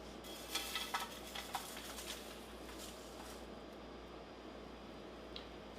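Ingredients for tamales toasting in a pan, a soft steady sizzle and faint crackle with a few light stirring clicks early on, quiet and continuous without talk.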